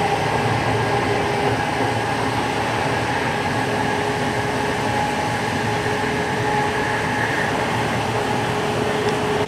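Steady interior rumble of a train heading to Windsor and Eton Riverside, a continuous rolling drone with faint tonal hum, loud and close throughout with no voices.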